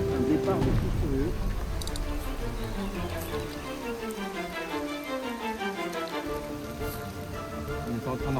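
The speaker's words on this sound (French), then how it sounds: "il commence à pleuvoir" Rain starts to fall on a carp-fishing session by the water, a steady patter on surfaces that holds for several seconds under low voices and other background sound.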